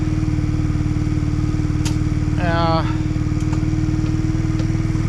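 A motorcycle engine idles steadily and loudly throughout, a constant low mechanical drone with a brief voice cutting in over it midway.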